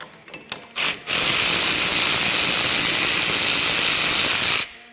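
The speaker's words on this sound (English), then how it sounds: "So we'll go ahead and remove the castle nut." A castle nut comes off the A-arm of a Kawasaki Teryx KRX 1000. A few quick ratchet clicks lead into a loud, steady whir of a power tool running for several seconds before it cuts off.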